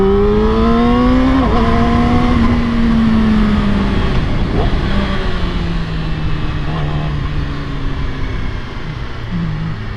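A Yamaha R6 motorcycle engine drones steadily under heavy wind rush while riding, its tone sliding downward as it shifts and settles, loud and constant with no voice.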